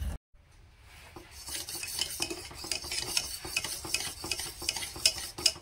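A thickening milk mixture is stirred in a pot on the stove while it comes to a boil, the spoon scraping steadily in repeated strokes against the metal, close and clear with no talk.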